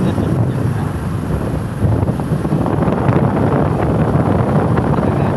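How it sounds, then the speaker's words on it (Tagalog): Steady wind buffets the microphone with a constant low roar at a provincial seaport, continuous throughout with no pauses. "Ang sarap ng hangin."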